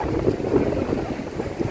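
Wind gusting by the sea at Galveston, Texas, buffeting the microphone in a steady, loud low rumble with no voices.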